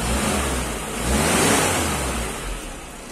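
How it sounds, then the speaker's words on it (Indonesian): Engine of a Mitsubishi L300 runs close and loud, swelling with a rev midway before settling back toward idle. "Mesinnya halus banget ya ini."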